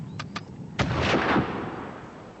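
Artillery fire booms in the distance: two sharp reports, then a heavier blast that rolls and echoes for about a second before fading, with no voices over it.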